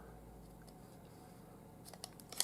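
Scissors snip through a paracord leg on a miniature bell rope keychain, giving a few quiet, sharp clicks near the end over faint room noise.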